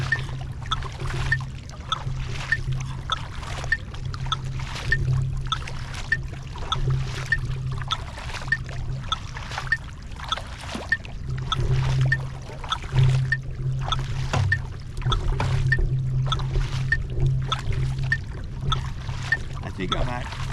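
A big blade paddle sweeps through the water in low, steady zone 2 strokes. Each one leaves a rhythmic splash and trickle at close range, with a person's voice now and then.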